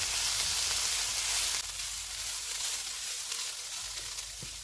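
Pepper and garlic chili sauce sizzling in a hot pan, a steady bright hiss of frying that drops a little in intensity partway through, with faint stirring clicks.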